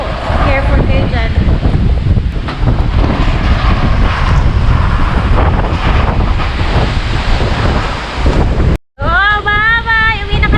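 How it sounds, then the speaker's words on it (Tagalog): Strong wind buffets the microphone at a mountain campsite in Tuba, Benguet, a loud, continuous roaring rush with gusty swells that drops out briefly near the end. "Sobrang lakas ng hangin."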